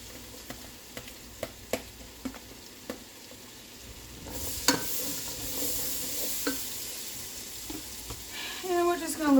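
Vegetables sautéing in melted butter give a moderate sizzle that builds after a few clinks of a utensil against the pan, with a brief stirring scrape near the end.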